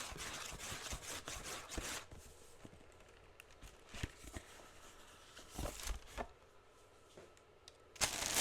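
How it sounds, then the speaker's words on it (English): Sneaker wrapping paper is handled up close, producing soft crinkling rustles and sharper crackling bursts that come and go at irregular intervals. "I love the sound of this wrapping paper."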